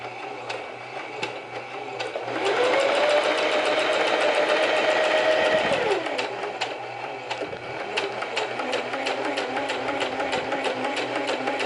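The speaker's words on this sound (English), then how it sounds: "Turn on my machine, and again I'm going to sew it 1/4 inch all the way down" A sewing machine run by foot pedal stitches a quarter-inch French seam, its steady close mechanical whirr holding level for several seconds, then settling into a quieter, even running rhythm.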